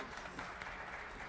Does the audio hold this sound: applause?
yes